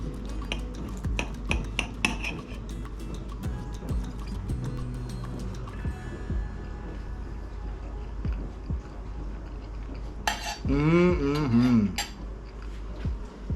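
Chicken paprikash and rice served onto a plate in a home kitchen: scattered light clinks and scrapes of cutlery against crockery, a brief soft rustle midway, and a short burst of voice near the end.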